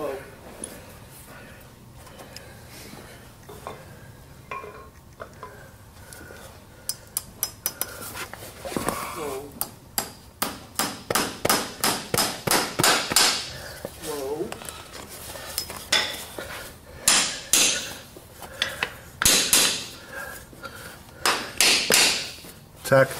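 A Liberty number 7 driving hammer drives horseshoe nails during a horseshoeing demonstration, sounding as sharp, loud metallic taps in quick rhythmic bursts after a quieter stretch of background noise at the start.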